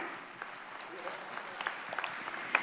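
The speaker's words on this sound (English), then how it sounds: "Can't we clap louder?" An audience at a corporate town hall award ceremony claps in a loose, fairly faint round of applause with scattered sharper claps, as if from a room of seated staff.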